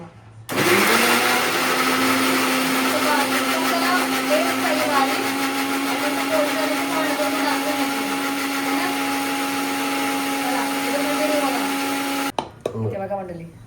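A mixer grinder grinds paste for a dried bombil fish curry, with a loud, steady motor whine that starts and stops sharply and lasts about twelve seconds, while a voice talks faintly underneath.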